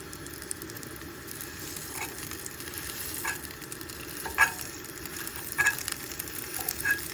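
Chicken tenders frying in a pan at a cold-weather camp in the Appalachian wilderness, a steady close sizzle throughout with a few louder pops and stirring scrapes, and no talk.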